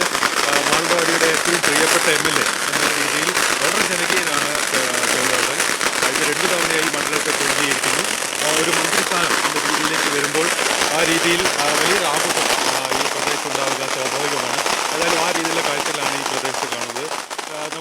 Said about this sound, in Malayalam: ഈ പ്രദേശത്തെ നാട്ടുകാർ പടക്കം വെട്ടുകയും മറ്റും ചെയ്യുകയാണ്